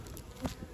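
Honey bees buzz at an opened hive during a first spring inspection, smoke being puffed in; a short, steady insect drone sits close by with a slight swell midway.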